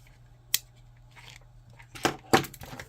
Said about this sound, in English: I'm going to cut that.